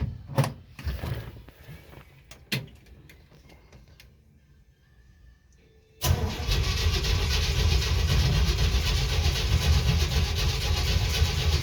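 A 1969 Jeep CJ5 with a hard-starting engine is cranked through a few sputtering attempts and a quiet pause, then catches and roars into a loud, rough cold-start run close to the exhaust.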